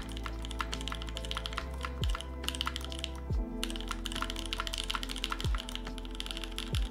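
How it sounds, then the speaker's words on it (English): Rapid, continuous clacking of keys on an Onyx mechanical keyboard, crisp and close, with a low steady hum beneath and no talking. "Also, Damos, do you like the keyboard?"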